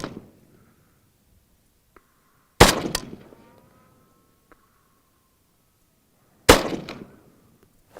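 Two sharp rifle shots from a Saiga 7.62x39, each a loud crack with a ringing, fading tail, spaced about four seconds apart outdoors, with faint clicks between them and no speech.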